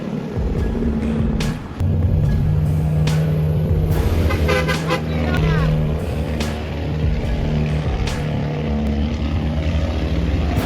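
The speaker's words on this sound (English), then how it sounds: "Powerful engines, sharp brakes, honking horns." Heavy truck engines labor along winding roads through the green hills of Mount Rosser, a steady loud rumble with sharp horn toots cutting in now and then, under faint talk.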